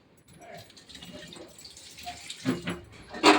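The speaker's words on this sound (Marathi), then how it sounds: "चला आता हे आवळे मी धुवून घेते मस्त असे." Amla (Indian gooseberries) rinsed under running tap water in a home kitchen, with a soft trickle that grows into short splashy bursts toward the end, close by and fairly quiet.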